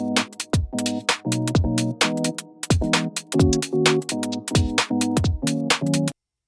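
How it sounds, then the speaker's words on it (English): A song made in BandLab whose layered parts drift out of time with one another at mismatched tempos, a busy full mix of sustained tonal chords and sharp percussive hits playing steadily for about six seconds before stopping abruptly. "It sounds like something's off, like the parts are playing at different tempos."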